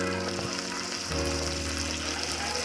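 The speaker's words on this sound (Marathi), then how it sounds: "कांदा चांगला लालसर होईपर्यंत परतून घ्या।" Onions fry in a pan for khichdi, giving a steady, dense sizzle that stays close and even throughout, with a faint low hum underneath.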